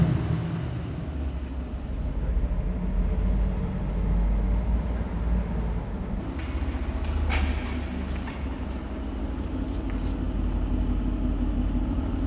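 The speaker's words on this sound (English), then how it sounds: "So come on mate, bring the car up." A Mercedes-AMG performance car approaches from a distance, a steady low engine drone and road rumble building gradually over about twelve seconds with no talk.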